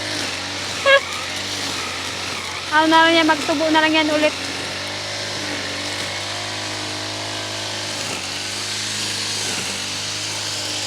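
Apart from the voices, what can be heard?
grass cutter cutting grass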